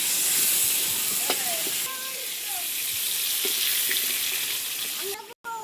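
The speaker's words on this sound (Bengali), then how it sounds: "এখন আলু ভাজা হচ্ছে" Potatoes fry in a pan with a steady, close sizzle and hiss throughout, joined by occasional clinks and brief speech in the background.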